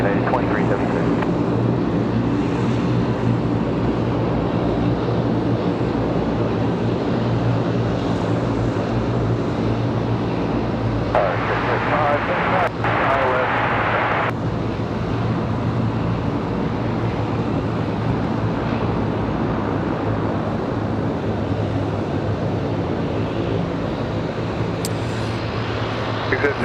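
A United Airlines jet takes off from runway 23 right at Raleigh-Durham International, a sustained, steady engine roar with low rumble throughout, accompanied by faint background chatter.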